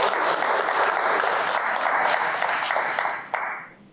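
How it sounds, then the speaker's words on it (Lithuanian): Audience at a bodybuilding seminar and forum applauds a champion bodybuilder, dense sustained clapping that thins out and fades near the end. "Aplodismentai Antonui."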